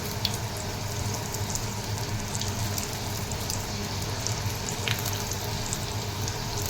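Chicken lollipops deep frying in hot oil, a dense, steady sizzle and bubbling crackle that stays loud and close throughout, with occasional sharper pops and no talking.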